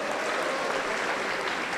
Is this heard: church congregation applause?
yes